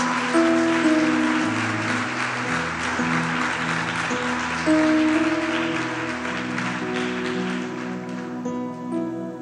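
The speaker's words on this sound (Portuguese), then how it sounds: "Quem pode aplaudir bem forte a Jesus?" A church audience applauds loudly beneath prominent sustained keyboard or organ chords that carry through the whole stretch, with the clapping texture dense and steady before easing slightly near the end.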